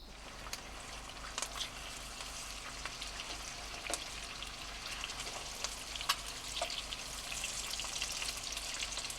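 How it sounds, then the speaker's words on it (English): Eggs and bacon sizzle and crackle steadily in a frying pan, a soft, close hiss with scattered pops and spits throughout and no talking. "I got some eggs cooking this morning."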